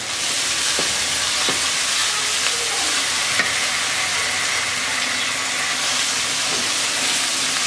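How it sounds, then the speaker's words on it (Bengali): Spice paste of cumin and coriander powder, ginger-garlic paste and chili paste frying in a pan for a pigeon and meat jhal rezala, giving a steady close sizzle with occasional stirring scrapes throughout. "মশলাটা কিছুক্ষণ কষাবো।"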